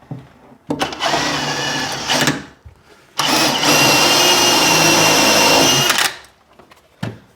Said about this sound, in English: we're just going to pinch those with a couple of screws just to hold it here